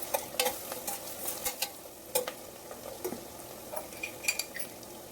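Onions and curry leaves frying in oil in a pan: a quiet, steady sizzle broken by repeated light scrapes and clicks of a spoon stirring, close up with no talking.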